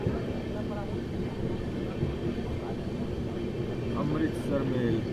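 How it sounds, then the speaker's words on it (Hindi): The Amritsar–Howrah Mail express train rumbles steadily past at a crossing near Buxar in foggy conditions, a continuous loud low roar of rolling wagons, with someone talking over it. "अमृतसर से चल के हावड़ा को जाने वाली क्रॉसिंग हो रही है बक्सर आउटर में"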